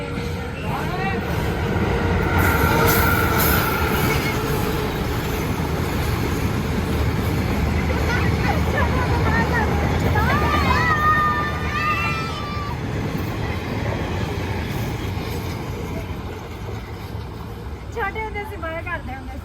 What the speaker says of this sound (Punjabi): ਇੱਥੇ ਬਿਲਕੁਲ ਛੱਤ ਦੇ ਨਾਲ ਹੀ ਟ੍ਰੇਨ ਆ ਜਿਹੜੀ ਹਨਾ ਨਿਕਲਦੀ ਆ ਬਿਲਕੁਲ ਨਾਲ